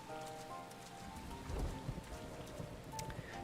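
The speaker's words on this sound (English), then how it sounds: "Oh, it's raining now, too." Steady in-game rain in Final Fantasy XIV, a dense even patter of drops across the whole stretch with faint low rumbles mixed in, no talking.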